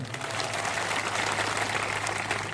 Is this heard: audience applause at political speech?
yes